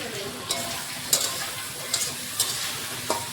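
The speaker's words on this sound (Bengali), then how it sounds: "তাহলে এখন একটু ভালো করে ভেজে নেব, গামাখা করবো" Small fish frying in a pan with salt and turmeric, a steady close sizzle broken by a handful of sharp spatula clicks and scrapes.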